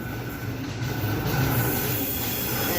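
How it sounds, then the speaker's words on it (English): A train at a busy Central station platform in Sydney rumbles steadily, with wheel squeal and rail clatter rising in loudness. The noise is nearby and continuous, and no one speaks. "Lots of trains here."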